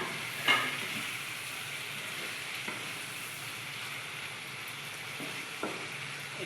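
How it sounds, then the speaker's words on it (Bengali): A chicken keema spice mix with potatoes fries in a pan, a soft steady sizzle close by with a few faint stirring clinks of a spoon against the pan. "এবার আমি আলুটা দিয়ে আর একটু কষিয়ে নেব।"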